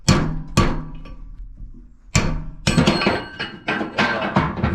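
Hammer blows driving a bearing race out of a housing with a weld-constricted bore: sharp metallic impacts, a couple early, then a cluster of rapid hits close up and loud, no talking.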